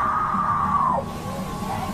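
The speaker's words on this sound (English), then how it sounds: "the woman calms down, but then lets out a final scream" A woman's loud, sustained scream rises and holds for about a second, then breaks off, followed by a fainter trailing cry over a dull, noisy room background picked up by a trail camera.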